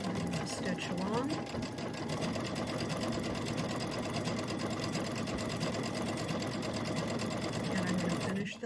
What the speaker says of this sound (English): drop my needle and do a lock stitch. That just helps hold my ends in place. And I'm going to stitch along.